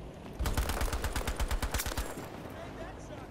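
Rapid automatic gunfire in Battlefield V, a fairly faint, steady stream of quick shots lasting about two seconds and trailing off, with talk mixed in.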